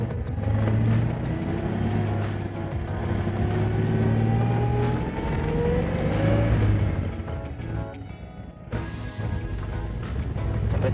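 A 1970s Citroën Ami 8 with a non-synchro first gear pulls away in a low gear, its small engine droning steadily from inside the cabin with a rising whine, a brief dip as the gear is changed, then the drone resumes.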